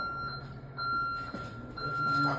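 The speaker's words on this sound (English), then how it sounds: "when we come to this area, it puts the alarm on" An alarm triggered on entering an area of Southside Elementary School sounds as a steady, piercing electronic tone in long stretches broken by brief gaps, moderately loud over a low, constant background rumble.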